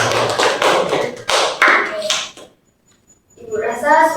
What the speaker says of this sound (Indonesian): Tepuk tangan untuk Nak Sabera.